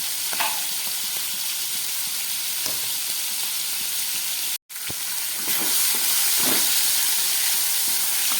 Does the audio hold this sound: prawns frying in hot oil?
yes